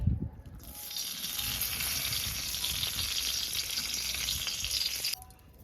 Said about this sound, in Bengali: একটা তেজপাতা দিয়ে দেবো